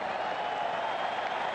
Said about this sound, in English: everybody here is standing to applaud because it has been utterly remarkable